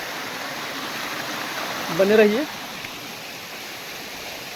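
Steady rushing water of a forest waterfall at Govindpur, Nawada, a constant broadband hiss throughout, with someone speaking briefly in the middle over it.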